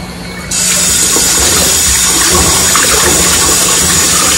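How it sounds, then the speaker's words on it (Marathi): Water gushes loudly and steadily after starting abruptly, like running a tap into a container to rinse mung beans, close to the listener. "भरपूर पाणी घ्यायचं त्याच्यामध्ये आणि धुवायची 3-4 पाण्याने स्वच्छ"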